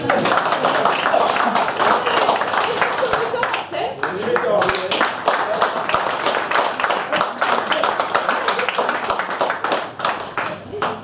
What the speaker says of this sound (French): La régie, on applaudit la régie.